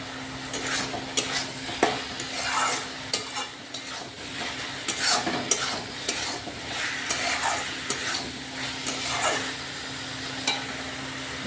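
Spices with Kashmiri chilli and turmeric are sautéed in oil in a pan, with a constant close sizzle and frequent spatula scrapes and taps, no speech.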